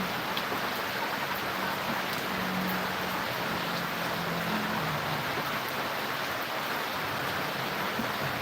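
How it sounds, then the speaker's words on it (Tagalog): Heavy afternoon rain driven by strong wind, a dense steady hiss of downpour filling the whole stretch with no letup and no voices. "Lakas ng ulan ngayon. Bigla-bigla. At saka malakas yung hangin ngayon, tinatabo yung ulan."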